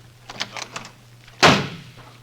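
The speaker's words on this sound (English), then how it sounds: "That door slam wasn't Robert" A studio door slams once with a loud, sharp bang, followed by a short fading rattle, after a few soft footsteps or knocks.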